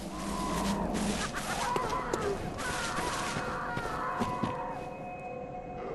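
Eerie ambient sounds from the Hemwick Charnel Lane area in Bloodborne: a dense, murky wash with wailing, siren-like tones and scattered sharp clicks and thuds, moderately quiet throughout.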